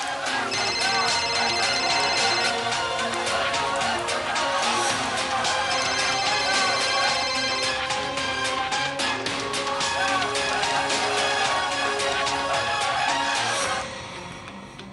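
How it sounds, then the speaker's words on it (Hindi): A phone ringtone plays on and on without being picked up, its melody dense and steady, with speech mixed in. "कब से फोन कर रहे हैं, गुंजन फोन नहीं उठा रही।"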